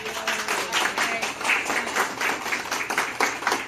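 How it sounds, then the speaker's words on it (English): Attendees at a monthly community meeting clap together in a steady, moderately close round of applause that fills the whole moment. "If you have fun, let's all clap."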